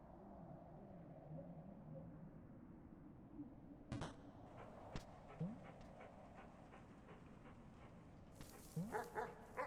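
Dog barking and whimpering in the video game Animal Well, a series of short yelps and whines over a steady game soundscape with faint rustling, sharper bursts clustered near the end.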